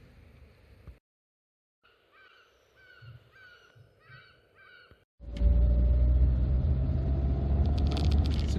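A 1988 Austin Montego 2.0 EFi Mayfair starts after quiet cabin noises and a few faint caws, then drives with a loud, steady engine and road roar filling the rest.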